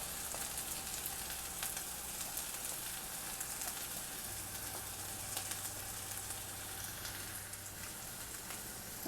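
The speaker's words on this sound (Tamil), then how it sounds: "இப்போ நறுக்கி வச்சுருக்க வெங்காயத்தை சேர்த்துடலாம்" Chopped onions fry in hot sesame oil with cumin in a kadai for village-style mutton thokku, giving a continuous soft sizzle and crackle, fairly quiet and steady, with no talking.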